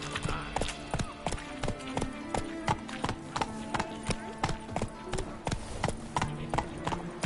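Roach, a horse in the video game Witcher 3, gallops with steady rhythmic hoof clip-clops, close and prominent over a faint background bed, continuous throughout.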